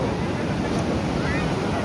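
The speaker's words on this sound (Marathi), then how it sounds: "मी इथं समुद्राच्या किनारी आलो आहे" Sea waves at the beach in Ganpatipule on the Konkan coast, a dense continuous wash of surf and wind rumble, loud and close throughout.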